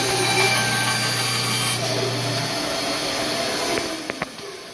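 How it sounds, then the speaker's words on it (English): Bandsaw cutting excess wood off a blank, a steady close whine and rasp of the blade through wood running throughout, easing off near the end with a few light knocks. "I'll come back over to the bandsaw and I'll cut off that excess"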